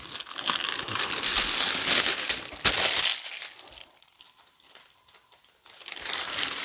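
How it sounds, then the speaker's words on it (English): Crinkly plastic covering pulled off guitar strings, loud close crackling and crumpling for a few seconds, a sharp snap, then quieter rustles before the crinkling resumes, no speech. "Take out this plastic that's covering the strings."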